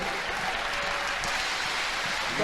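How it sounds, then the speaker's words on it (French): A church congregation claps loudly and continuously in a dense, even wash of applause that fills the hall for the whole moment. "Acclamons très fort pour le Seigneur."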